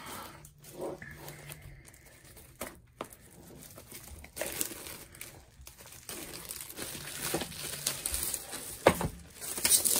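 A cardboard box of painting canvases is pried open with pliers, giving a run of crinkling, tearing and scraping of packaging, close and fairly loud, building toward the end with sharper rips and no talk.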